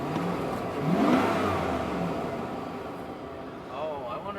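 Flood-damaged Chevrolet Silverado pickup engine idling on its own with a muffled, low exhaust note, a brief rev swelling early, while people talk nearby throughout.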